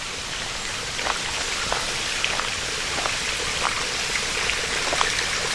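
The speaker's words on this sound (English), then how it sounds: "I don't remember the water coming out the door there though" Water pours out of a doorway at old stone ruins on the Mount Misery Trail in Valley Forge National Historical Park, a constant rushing, splashing flow with faint drips, steady and fairly close, with no voices.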